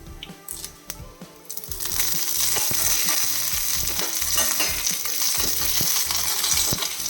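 Torn dried red chilies hit hot oil with curry leaves and a loud, steady crackling sizzle erupts, continuing with faint stirring scrapes after a quieter opening.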